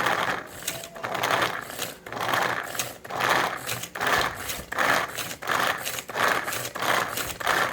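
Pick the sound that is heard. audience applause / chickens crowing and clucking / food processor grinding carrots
food processor grinding carrots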